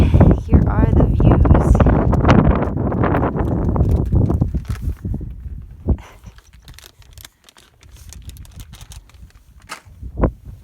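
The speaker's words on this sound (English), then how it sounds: "It's gonna be a little windy" Cold, strong wind on the summit of Mount Elbert, Colorado, buffets the microphone with a loud, low, gusty roar for several seconds, then eases into quieter, intermittent gusts.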